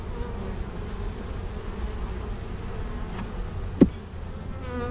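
Honeybees in an open hive of a weak colony drone with a steady, close, low buzz. A single sharp tap or knock cuts in near the end.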